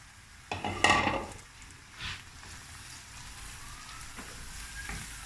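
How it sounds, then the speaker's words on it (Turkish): Grated carrot and red kapya pepper sautéing with already browned onions in a pan: a loud burst of sizzling as the vegetables hit the hot oil, then a softer steady fry with a few stirring scrapes. "Soğanlarımla birlikte kavuracağım."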